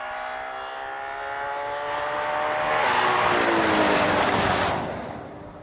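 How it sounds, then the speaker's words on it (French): A Ferrari Purosangue accelerates hard in a drag race, its engine note climbing steadily in pitch and swelling in loudness before easing off at the end, heard alone without voices. "Voyez la Ferrari filer"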